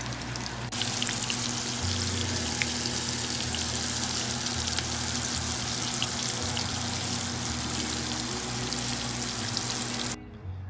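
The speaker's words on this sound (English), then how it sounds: "lay them into the oil, and we're just gonna heat them until they're nice and golden brown on both sides" Chain pickerel pieces fry in hot oil with a dense, steady sizzle and crackle that runs loud and continuous, with no talking, until it cuts off near the end.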